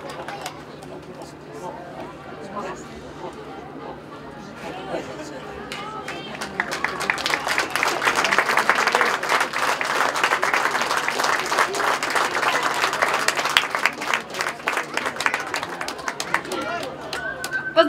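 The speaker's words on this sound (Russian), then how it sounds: "Ваши аплодисменты" A festival crowd at a Hederlez celebration in Ceadîr-Lunga applauds a carpet sponsor, the clapping swelling into a sustained dense roar after a stretch of announcer talk and murmur, with a low steady hum underneath.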